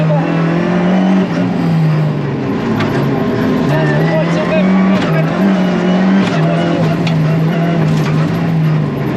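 A Renault Clio R4 rally car on a Corsican rally stage roars loud and continuous from inside the cabin, the engine note dipping and climbing again as gears change, with a voice talking over it.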